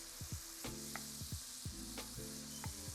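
Shrimp sizzle in a hot pan with a constant bright frying hiss, punctuated by repeated utensil knocks and scrapes as they are moved around, close and fairly loud.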